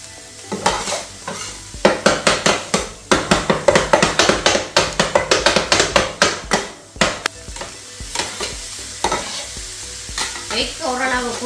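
Egg and vegetables fry and sizzle in a pan while being stirred and scraped for Jaffna-style mutton kottu. Close, loud, rhythmic scraping strokes come in quick bursts over a steady sizzle, with no talking.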